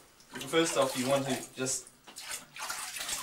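Running water splashes in a bath while a cat is rinsed down, a fluctuating watery rush heard beneath a person talking close by.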